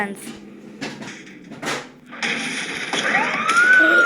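A police car siren wails in the Mad Out driving game, rising in the second half over engine noise and clunks, with someone talking over the game sounds.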